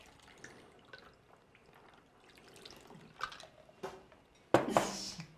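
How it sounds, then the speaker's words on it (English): A cocktail strained over ice into a glass: faint trickling and dripping with small clinks, ending in a louder splashing pour. "Strain all of this into your glass."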